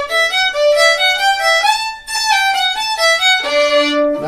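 Fiddle tune played with the fourth finger left out in a beginner class, bright bowed notes moving in a steady melodic line with one short break and a lower held note near the end.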